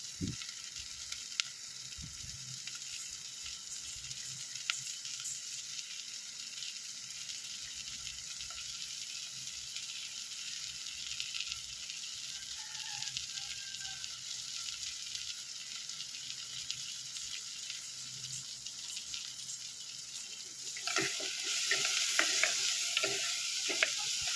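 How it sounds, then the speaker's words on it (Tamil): Onions sautéing in a pan for a fish curry, a soft, steady sizzle with occasional stirring scrapes, quiet and continuous, swelling into a louder, busier frying hiss near the end. "வெங்காயம் இப்போ நல்லா வதங்கி வரட்டும்."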